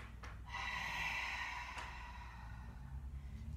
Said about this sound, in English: It's the Darth Vader breath.